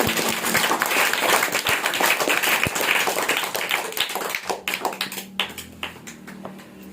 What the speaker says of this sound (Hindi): तो आप लोग एक बार जोरदार तालियों से स्वागत करते हैं।